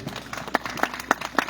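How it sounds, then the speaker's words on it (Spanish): A church congregation claps hands during worship, a steady rhythmic beat of sharp claps roughly every quarter second, with a murmur of crowd noise underneath. "Alábale con tus palmas al que vive."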